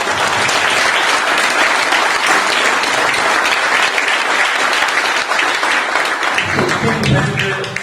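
Audience at a Modicare product demo in Hisar breaking into loud, dense applause that stays steady for several seconds, then thins out toward the end.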